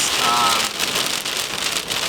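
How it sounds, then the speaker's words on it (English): Heavy rain pounding a vehicle during a storm chase in the Nebraska Sandhills, a dense, steady drumming of drops close by with faint speech underneath. "we're getting some pretty heavy rain on the backside"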